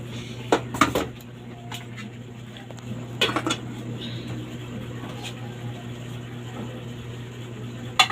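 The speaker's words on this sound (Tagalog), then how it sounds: "At magsasandok tayo ng ulamers." Metal serving spoon clinking against pots and dishes while scooping rice and viand, a few sharp clatters scattered over a steady kitchen hum, close and distinct.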